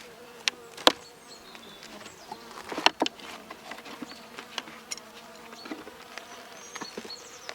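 Honey bees buzz faintly inside a sparsely populated hive that has come through winter, a low steady hum broken by sharp clicks and knocks of frames being handled nearby.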